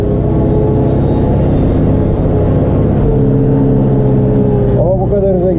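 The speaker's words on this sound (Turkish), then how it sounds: "Şu an yaklaşık 2000 devirle gidiyor." A Case JX110 tractor engine runs steadily at about 2000 rpm while ploughing a wheat field, a loud, close diesel drone with a slight shift in pitch near the end.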